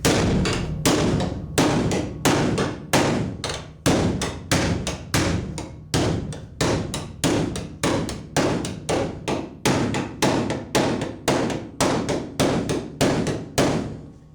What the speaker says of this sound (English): a few more smacks with the hammer